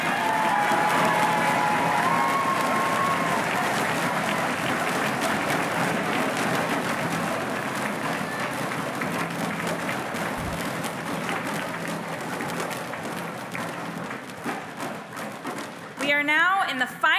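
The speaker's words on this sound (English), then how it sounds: "Give yourselves a round of applause," A large audience at the MATHCOUNTS National Competition countdown round claps for the championship round, sustained loud applause with some cheering and a thud, a voice speaking over it near the end.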